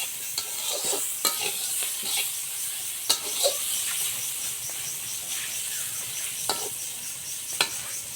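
Onions sizzle and fry in a pan while a utensil stirs them, scraping and clinking in irregular strokes over a steady crackle, close and moderately loud, with no talking.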